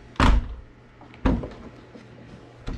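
Three short, sharp mechanical clunks from a BMW E46 door lock actuator being cycled, spaced about a second apart, close and distinct over a faint background hum.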